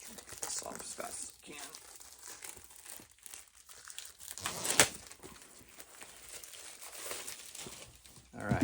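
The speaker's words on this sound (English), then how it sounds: "So they're always shrink wrapped in this plastic that's very tightly shrinked to the comics." Tight plastic shrink wrap being torn and peeled off comic books, with close crinkling and crackling that swells into a sharp rip, while a person talks throughout.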